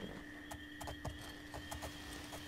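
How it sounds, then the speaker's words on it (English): Hooves of a horse in the video game Oblivion clop in a quick irregular rhythm over a steady tonal hum, soft and close with no speech. "Let's get back on the Mayborough horse."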